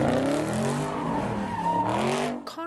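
Cars spinning and skidding on a city street during a street takeover, tires squealing in a loud, continuous wail with engine noise underneath.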